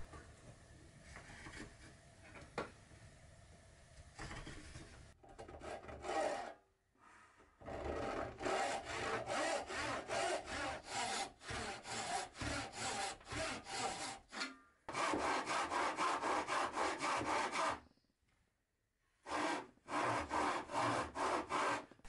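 A hand saw cuts a wooden tenon for a bedside table, with close, rhythmic back-and-forth strokes in several bursts separated by short pauses.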